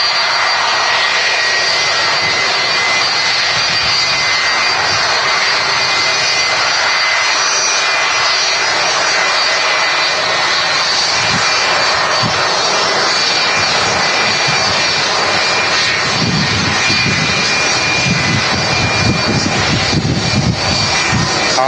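A jet airliner with RB211 engines departs Manchester Airport, a loud, sustained roar that fills the whole stretch, with rumbling low-end surges building toward the end.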